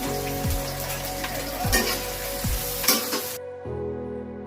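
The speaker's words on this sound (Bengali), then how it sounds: "এই ফুটন্ত তেলের মধ্যে হচ্ছে পেঁয়াজ কুচি দিলাম।" Chopped onions hitting hot oil make a loud, crackling sizzle up close, with a few scraping stirs, before the frying noise cuts away abruptly and a quieter hum remains.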